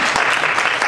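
Dense, steady applause from a school audience welcoming a student presenter at a senior capstone event, continuous and loud throughout.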